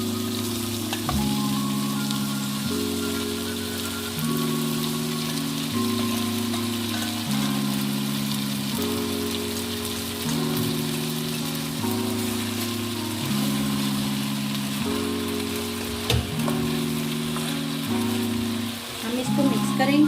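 Macaroni and crunchy vegetables fry together in a pan for chicken macaroni, giving a continuous bright sizzle with occasional stirring clinks, heard alongside a repeating low musical tone in the background.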